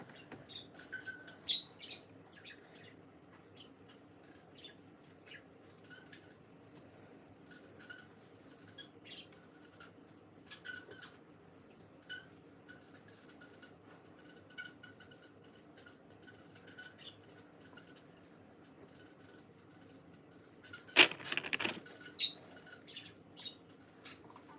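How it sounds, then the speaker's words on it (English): A pet bird chirps in a quiet room while someone sews a fursuit, giving scattered short tweets and squeaks across the whole stretch, faint and irregular, with one louder burst of noise near the end. "Oh, my chirpy bird."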